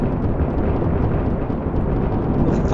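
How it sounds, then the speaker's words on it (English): Sonic boom from a military jet breaking the sound barrier in the Alpha Factions video game, heard as a loud, sustained broadband roar filling the whole stretch without a distinct crack, with no talk. "I'm going supersonic, I'm breaking the sound barrier."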